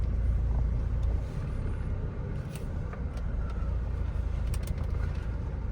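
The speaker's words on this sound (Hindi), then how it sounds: "गाड़ी स्टार्ट हो गई है।" A Toyota Innova Crysta with about 108,600 km on it runs just after starting, giving a steady low engine rumble that holds at an even level throughout.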